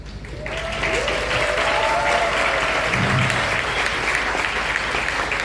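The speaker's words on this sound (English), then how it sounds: "I think the audience will confirm it by a big applause" Audience applause at a film masterclass at the Venice festival, a dense crowd clapping that swells in the first second and holds steady and loud.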